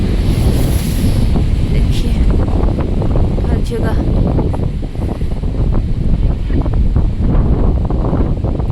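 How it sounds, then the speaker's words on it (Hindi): Strong, cold mountain wind batters the microphone in Dharamshala during bad weather, a loud continuous roar and buffeting throughout, while someone talks underneath. "बहुत तेज़ हवाएं चली हुई हैं और बहुत ठंडी ठंडी हवाएं चली हुई है।"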